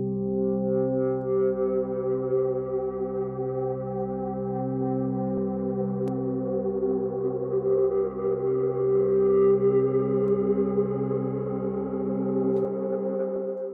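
Long, sustained synthesizer notes swell and overlap, washed in thick reverb that builds into a droning, shifting wall of sound.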